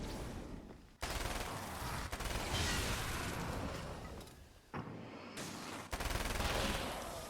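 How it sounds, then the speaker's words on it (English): SMG gunfire in Alan Wake's American Nightmare: sustained rapid bursts of automatic fire, loud and close, broken by a few short pauses between strings of shots. "the SMG is just really good"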